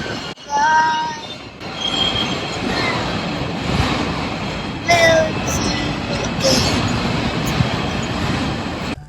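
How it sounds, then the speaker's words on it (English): An NYC subway M train arrives from Manhattan over the Williamsburg Bridge, a continuous heavy rail roar with sharp wheel squeals and screeches rising and falling throughout, loud and close. "This is the M train coming from Manhattan over the Williamsburg Bridge."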